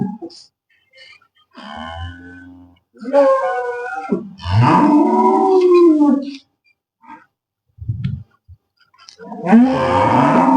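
A cow that has calved twice, at a cattle sale near Bathinda, Punjab, lets out several deep, drawn-out moos close by, separated by pauses, with a voice talking between them.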